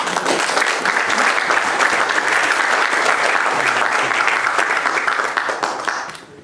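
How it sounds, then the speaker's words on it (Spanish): Congregation applauding in praise of Christ during a Spanish-language church sermon, a dense, loud, sustained burst of clapping lasting about six seconds before tapering off at the end. "Dale un aplauso a Cristo."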